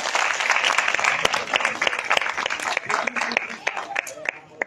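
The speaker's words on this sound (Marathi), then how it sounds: "आता सगळ्यांनी पुन्हा एकदा टाळ्या वाजवूया." A school drama group's audience at a theatre festival claps after their play, dense steady applause with sharp individual claps standing out, fading slightly toward the end.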